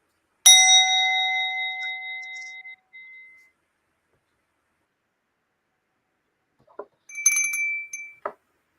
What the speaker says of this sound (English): let's chime the bell